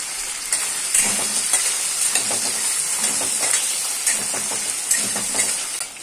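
Small peeled potato cubes cook in ghee with a steady close sizzle and hiss, punctuated by soft scraping stirs every second or so, no voices over it.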